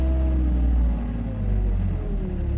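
A car engine, freshly replaced, revs through the gears. A loud, close, low rumble rises and falls with each gear change, with no talking over it.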